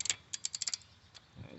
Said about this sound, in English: Now I'm gonna torque it, and I'm gonna torque this to 13 foot-pounds. So I use my torque wrench